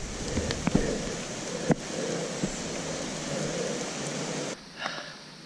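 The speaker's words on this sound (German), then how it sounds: "heute regnet es echt wie die Sau" Heavy rain pours steadily near old abandoned mine workings outside Bratislava, a dense continuous hiss with a few sharp drips and knocks, before it suddenly drops quieter near the end.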